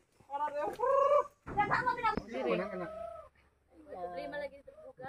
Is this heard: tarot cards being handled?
no